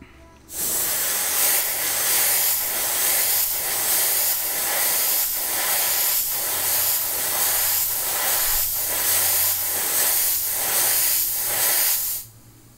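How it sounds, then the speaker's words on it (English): Spray paint hisses onto a Tamiya Volvo FH12 1/14 scale RC truck kit in a sustained, close, loud burst lasting about twelve seconds, pulsing slightly in rhythm, starting and stopping abruptly. "I can see where the paint is being sprayed"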